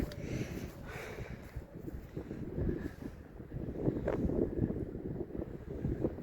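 Winter wind blows outdoors at a camp, a continuous low rumbling gust buffeting the microphone and rising and falling in strength.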